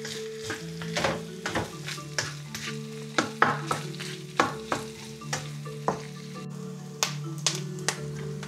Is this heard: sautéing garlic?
yes